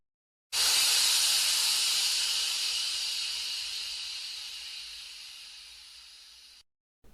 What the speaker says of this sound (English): Henry just blew steam at him